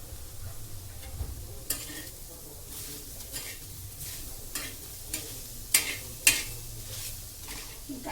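Chopped tomato roasts in a pan for a spicy soybean curry, giving a quiet sizzle with a spatula scraping in repeated strokes and two sharp metallic clinks near the end.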